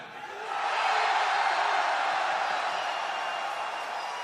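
A large crowd at a Dota 2 esports event roars and cheers, swelling quickly then holding a broad, sustained wash of noise that slowly fades slightly.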